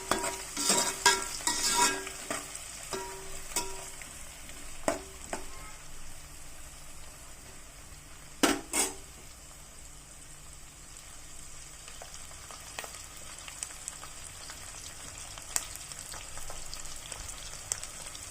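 Onions fry in a pan for a dondakaya and meal maker curry, giving a continuous sizzle broken by sharp clinks and scrapes from stirring, loudest near the start and again around the middle, with no one talking.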